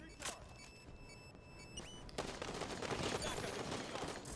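Gunfire in Halo 5 Guardians starts with a few electronic tones and a single shot, then turns into a sustained, fairly quiet stretch of rapid automatic fire.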